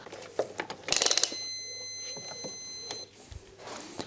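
A multimeter beeps during a continuity check on the thick starter motor wire of a BMW E31 with an S62 engine swap: a short cluster of quick electronic beeps, then a steady tone holding for about two seconds amid faint handling noise.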